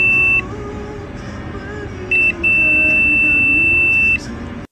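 A digital multimeter in buzzer mode sounds a high, steady electronic tone: one short beep, another short beep, then a long sustained beep, all over a low background hum.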